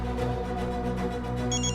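A telephone rings with an incoming call in a domestic drama scene, its tone repeating steadily over a low musical background with no talk.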